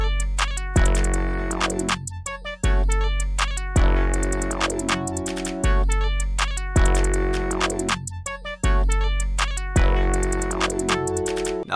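A jazz-flavoured hip-hop beat built in FL Studio, with drums, claps and deep 808 bass under chordal samples, looping in a steady repeating bar pattern with strong low booms on each cycle, loud and full with no voice.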